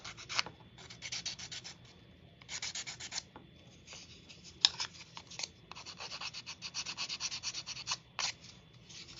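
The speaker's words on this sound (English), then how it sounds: "this little tiny detail sanding stick, which is awesome, you can get into all these little areas" Quick, close scratchy strokes of a small sanding stick rubbing a surface, in irregular bursts with short pauses between.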